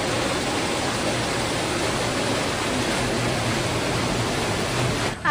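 A waterfall at a tourist spot in Columbio, Sultan Kudarat, pours with a strong current, giving a constant, dense, close roar of rushing water that holds unchanged until an abrupt cut at the end.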